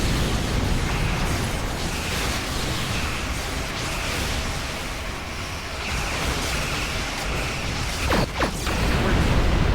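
Starship battle in Star Trek Online: dense, loud weapon fire and explosion bursts roll continuously, with a couple of sharper blasts near the end.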